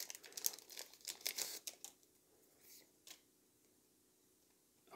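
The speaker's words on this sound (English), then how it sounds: "Ripping a pack for you." A Pokemon TCG card pack is torn open with a burst of close crinkly foil rips and crackles, then quieter rustling and a couple of faint handling sounds.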